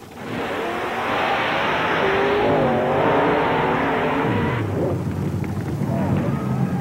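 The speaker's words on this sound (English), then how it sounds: "here comes the Pepsi Challenger from Waxhaw, North Carolina. This is Jody Kelly, a Chevy with 488 cubic inches." A 488 cubic inch Chevy mud racing car roars through a mud pit at an NMRO race in Bayou George, Florida, its engine loud and sustained with revving pitch swings before easing off toward the end, an announcer talking over it.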